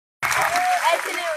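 A crowd gathered at a public event bursts into sudden applause, a dense, loud wash of clapping that starts abruptly and continues steadily, with voices mixed in.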